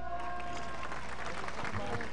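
Applause from an audience at a cabinet swearing-in ceremony for minister Alfonso Grados, a steady, dense wash of clapping filling the short moment at moderate level.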